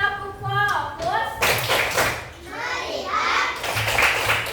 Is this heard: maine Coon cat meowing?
no